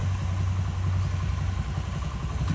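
A motorcycle engine runs close by in a steady, low, pulsing rumble with a rhythmic thump and no voices.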